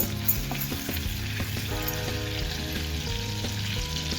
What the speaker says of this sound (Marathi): तर याला परतून घेऊया आपण.